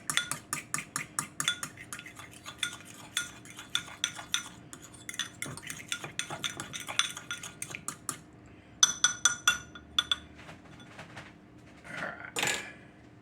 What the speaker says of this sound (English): I'm going to take and mix these egg yellers up.